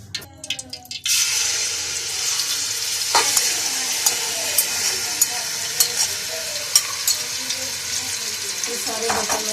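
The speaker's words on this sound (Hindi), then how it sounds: "अब हम इसको अच्छे से भून लेंगे।" Chicken frying in hot oil, a steady loud sizzle that starts abruptly after a brief quiet moment, with occasional clinks and scrapes of stirring over the constant crackle.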